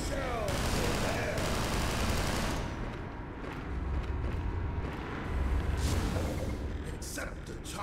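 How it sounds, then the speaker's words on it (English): Rapid gunfire rattles through a firefight in the video game Entropy: Zero, continuous and loud for the whole stretch, swelling and easing with heavier bursts, while a voice talks over it. "Try shooting the guy?"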